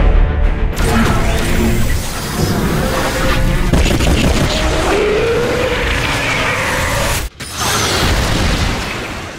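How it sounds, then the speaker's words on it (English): Orbital strike bombardment in StarCraft II: Legacy of the Void, loud booming blasts and dense mechanical clatter filling the scene, with a brief sharp cut near the end. "Orbital strike is online. Designating targets."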